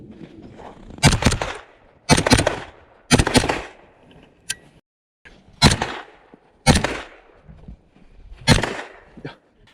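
Live pistol gunfire on a shooting course, fired in quick pairs and triplets of sharp, loud cracks separated by short pauses, repeating through the run with no talking.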